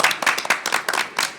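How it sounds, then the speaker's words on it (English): Audience at a school board of education meeting clapping in congratulation, a short round of close, uneven handclaps from a small group, heard alone with no talk. "And I know we can applaud."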